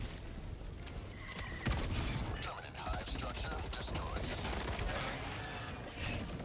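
Rapid fire from a Viper Commando weapon in the Helldivers 2 video game, a fast continuous chatter of shots with scattered sharper cracks, steady and fairly dense, mixed with game noise.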